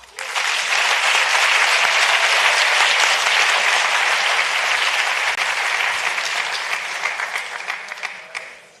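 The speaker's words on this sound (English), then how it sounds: "please let us now give our exceptional innovators and the institutions supporting them a final round of applause" A large audience at the Science Forum South Africa opening plenary gives sustained, dense applause for innovators. The clapping holds steady for several seconds, then thins into scattered claps and tapers off.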